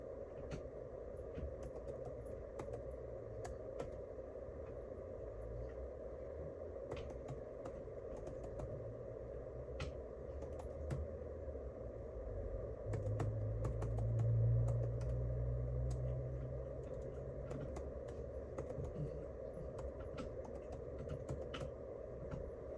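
Someone types on a computer keyboard in quick, irregular runs of soft clicks. The keys sound faint and close against a constant low hum, and a brief low rumble swells partway through.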